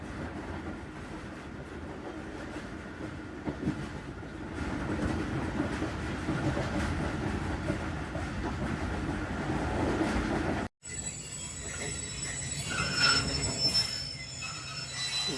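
Tezgaam Express passenger train running on rails: a steady, loud rumble of wheels and carriages rolls on with faint clicks, then after a brief cut turns to a higher metallic screech and rattle.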